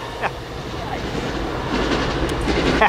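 A Metrolink commuter train speeds past a railfan spot in Commerce, a steady loud rush of wheels and rail noise with faint clicks from the track and brief light sounds near the end.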